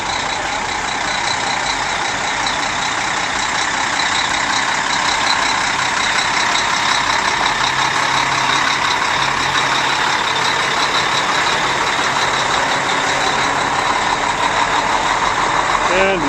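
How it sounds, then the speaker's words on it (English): A newer model Mack dump truck drives past at a truck show at a sand and gravel company, its engine droning steadily and fairly close for about sixteen seconds, with a faint whine and someone speaking over it. "Followed by a newer model Mack dump truck."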